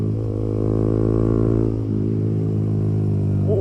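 A Honda MSX small motorcycle being ridden, its engine droning steadily and close with a strong low hum and even harmonics, pitch holding fairly constant with a slight dip midway, no talk.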